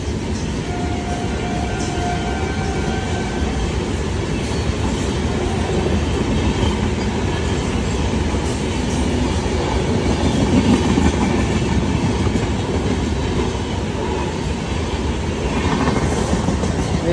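The Sealdah Rajdhani express passenger train passes at night with a loud, continuous rolling rumble and steady wheel clatter from start to end, with no talking over it.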